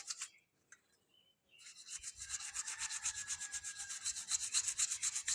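A brush rubs over a laptop cooling fan to clear dust, giving a close, steady scratchy rasp in fast repeated strokes after a few faint touches at the start.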